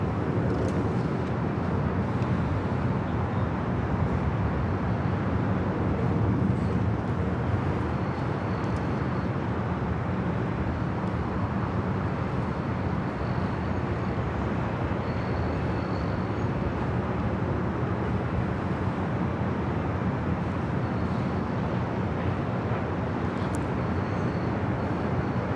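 A Delta Airlines Boeing 757-200 jet arriving at LAX, heard as a steady, broad, loud roar with no distinct peaks that holds throughout, with no voices.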